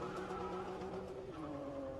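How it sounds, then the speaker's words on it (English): A drift car engine strains at high revs at a Red Bull Car Park Drift event in Oman, a sustained buzzing roar whose pitch dips slightly, heard from some distance. "You can hear the punishment that engine's going through right now."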